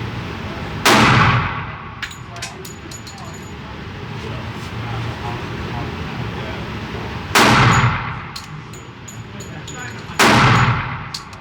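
A Walther PPQ .45 ACP pistol fires at a target 7 yards away: three loud, sharp shots spaced several seconds apart, each followed by a short ringing decay over steady outdoor background noise.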